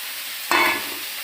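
Mung dal tipped into a pan of bottle gourd frying for lau ghonto, giving a sudden close hiss and sizzle that swells briefly and then settles into a softer steady fry.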